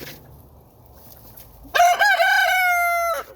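A young rooster, once mistaken for a hen, kept in a backyard flock in winter, lets out one loud, close crow after a stretch of quiet background hum, the call held and then tailing off.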